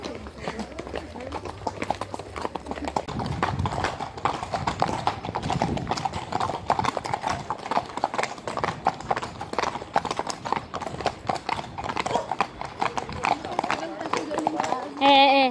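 Horse hooves clip-clop steadily on a trail ride in Suzano, with close, rhythmic footfalls throughout and voices heard along the way.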